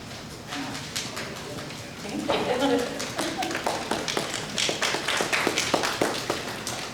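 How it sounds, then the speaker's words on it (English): An audience claps for panelists at an African American Heritage Week college event. Talk comes first, then steady, fairly close clapping builds after about two seconds and holds as a rhythmic patter until the end. "It's good to clap"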